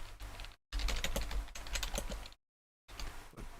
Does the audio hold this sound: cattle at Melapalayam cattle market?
no